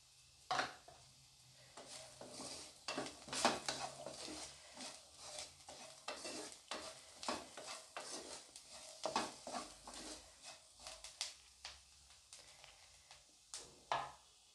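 Bitter gourd dry-frying in a pan, with repeated scraping stirs of the spatula over a soft steady sizzle, close and fairly quiet, no voices.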